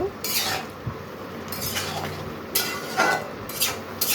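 A spoon stirs pangas fish and bottle gourd curry seasoned with cumin powder in a pot, making intermittent scraping strokes and light metallic clinks against the pot, with no one talking.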